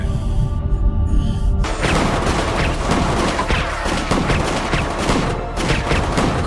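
Dense burst of gunfire erupts in a TV drama scene, a loud sustained volley of rapid shots after a quieter tense opening, with a faint voice under the din.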